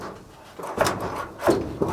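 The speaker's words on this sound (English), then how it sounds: "Do you want me to start fettling the door?" A jammed left-hand door on an old Mazda RX7 barn find is forced, giving three separate knocks and creaks about half a second apart, close and fairly loud, with no talking.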